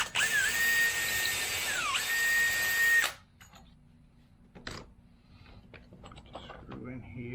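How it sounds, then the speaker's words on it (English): Power drill pre-drilling a hole into a worn wicker love seat being turned into a swing, one steady loud whining burst for about three seconds with a brief pitch dip, then quiet handling noises. "Pre-drill this one."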